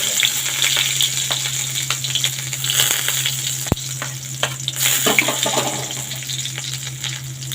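Nigella seeds and chopped garlic fry in hot oil in a pan, a close, continuous crackling sizzle with occasional stirring scrapes and one sharp tap, with no speech.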